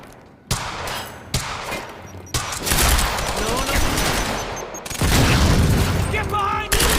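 Gunfire in the video game Quantum Break: sharp single shots followed by sustained bursts of rapid fire and booms, loud and close, with brief talk over the action.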